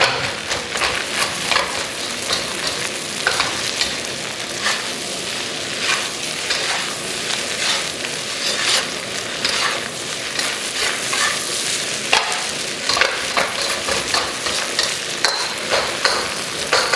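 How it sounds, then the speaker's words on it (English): Leftover rice sizzles and fries in a hot pan while it is stirred and broken apart for breakfast fried rice, with a steady crackling hiss and scraping stir strokes throughout. "Breaking that leftover rice"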